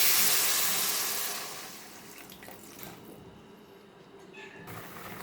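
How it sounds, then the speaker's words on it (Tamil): Tamarind water pours into a pot of mango curry with a steady liquid splash that swells at first, then thins to a quieter trickle over kitchen background noise. "நீங்கள் கரைச்சி வச்ச அந்த புளி தண்ணியை இதில் ஊற்றிக்கோங்க."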